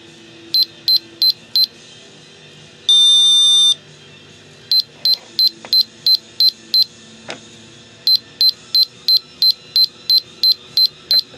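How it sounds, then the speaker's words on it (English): A Perfect Flight rocket altimeter chirps out groups of short, high beeps in rhythmic bursts, signalling Mach delay and main parachute deployment settings, with a longer steady tone early on, against a quiet background. "that's beeping out a Mach delay and beeping out the main parachute deployment"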